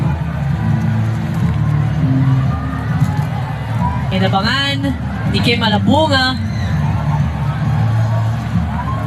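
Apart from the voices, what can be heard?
volleyball crowd roaring after the Philippines win a set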